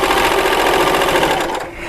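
A Baby Lock Celebrate sewing machine stitches a quilt seam, its fast, steady motor whir and rapid needle chatter running loud and close before easing off at the end.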